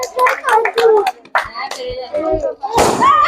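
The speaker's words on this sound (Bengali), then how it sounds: "চলো হাততালি সকলে হাততালি বেরো।" A crowd claps for children at a village game of walking a banana tree trunk and bursting balloons, with scattered handclaps and children's voices mixed through, ending in a louder burst of clapping.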